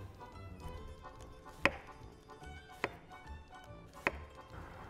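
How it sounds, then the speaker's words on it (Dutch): Three sharp knife chops slice a courgette into thin slices on a board at uneven intervals, crisp and close, over a low background hum. "En dan de courgette, die snijden we ook in dunne plakken."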